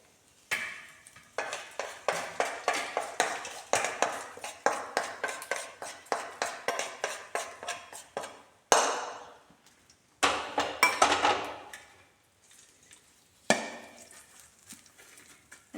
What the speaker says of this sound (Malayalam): ഇതേ ചട്ടിയിലേക്ക് തന്നെ നമുക്ക് തക്കാളി കൂടി ഒന്ന് വഴറ്റിയെടുക്കാം